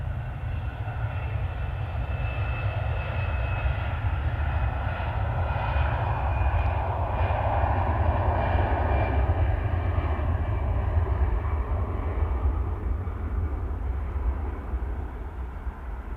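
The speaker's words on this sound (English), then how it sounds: "GLSAI is taxiing for departure." A 37-year-old Jet2 Boeing 757 taxis for departure, its engines producing a loud, steady rumbling roar with a higher whine layered above it, continuous throughout.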